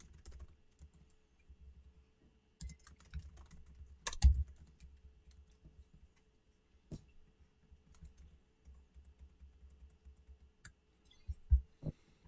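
Quiet typing on a computer keyboard, irregular bursts of soft key clicks with a few louder taps and pauses between runs, alone without speech.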